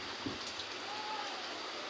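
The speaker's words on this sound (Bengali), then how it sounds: "অনেকদিন পর বৃষ্টিটা।" Rain after a long dry, hot spell falls steadily as a soft, even wash of hiss, faint and continuous with no clear individual drops.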